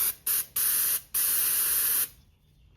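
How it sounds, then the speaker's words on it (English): Several short aerosol sprays of carburetor cleaner hiss in quick bursts through a jet from a 110cc dirt bike carburetor, then one longer steady spray before it cuts off into quiet; close and loud, no talking. "put this on the end here, spray it through"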